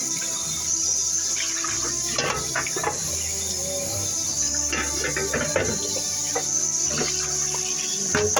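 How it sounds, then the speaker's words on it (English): Water runs into a kitchen sink while a roasting pan from a baked turkey is rinsed out, giving a moderate steady splash with scattered clanks and knocks of the pan against the basin. "First I'm going to rinse this out so the gunk doesn't set."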